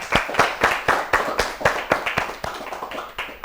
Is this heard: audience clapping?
yes